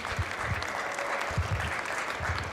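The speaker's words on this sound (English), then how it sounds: "let's give all these exhibitors a nice round of applause" Spectators at a youth livestock goat show applaud the exhibitors, a moderate patter of clapping with low thumps from the arena recurring in bursts.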